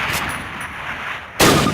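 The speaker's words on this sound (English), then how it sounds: "fire 2 rounds at your target while aiming down your sight." A rifle fires at a target on a training range in Call of Duty, a sharp loud report cutting in abruptly after a quieter stretch of ambient game sound.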